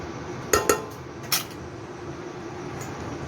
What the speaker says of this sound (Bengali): এবার আমি ওকে চাপা দিয়ে দিলাম, চাপা দিয়ে সেদ্ধ হতে দিচ্ছি।